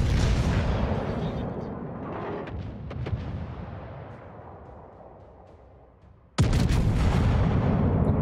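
Naval guns fire in World of Warships, a heavy rumbling boom that decays over several seconds before a second loud blast breaks in near the end.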